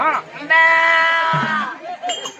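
A goat tied at the throat lets out one long, loud, wavering bleat up close, followed by shorter, fainter bleats, with people talking around it in a rural setting.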